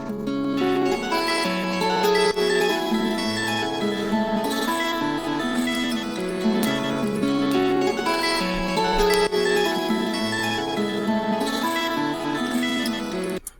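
Resampled beat sample run through a shaper effect and pitched down: a dense, continuous loop of layered tones and soft percussive hits, even in level throughout and fairly quiet.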